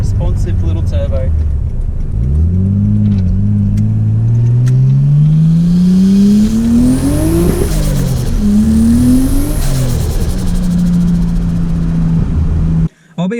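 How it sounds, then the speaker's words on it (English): A turbocharged car on a Max Speeding Rods turbo revs loudly and nearby, the engine note climbing in long sweeps, then dropping and climbing again, before it cuts off abruptly at the end. "it has been such a cool sounding and actually, to be honest, surprisingly responsive little turbo"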